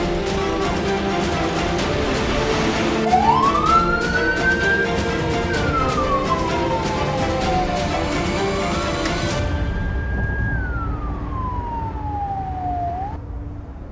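An ambulance siren wails loud and close in a tense roadside setting, its tone sweeping up and down in two long rising and falling cycles over a steady traffic rumble, with no speech.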